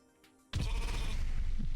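Sheep bleats in a Thai-played video game, a loud sustained bleat kicking in abruptly after a quiet start and continuing to the end with no talk.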